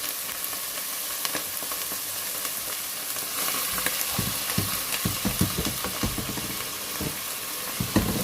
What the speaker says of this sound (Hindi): एक 2 मिनट तक भूनते हैं, उसके बाद हम इसमें अपने मसाले डालते हैं।